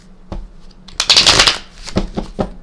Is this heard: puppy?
no